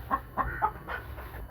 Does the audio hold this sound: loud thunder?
no